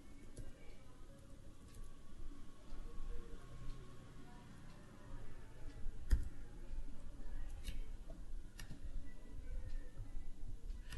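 Soft clicks of a computer keyboard as someone types numbers into a Power BI dashboard, sparse taps and a few sharper clicks under quiet room noise.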